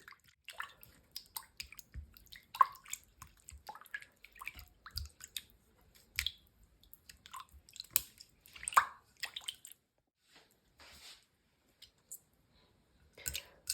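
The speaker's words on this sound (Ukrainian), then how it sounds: "І все добренько так ми розмішуємо лопаткою." Soft, wet squishing and clicking of a spatula stirring sticky yeast dough for bread in a bowl, irregular scrapes with quiet pauses, close by.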